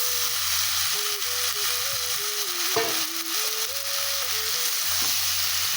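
Soybean and potato curry with fried egg sizzles steadily in a pan while being stirred, a constant bright hiss over a low wavering hum, with a brief clatter near the middle.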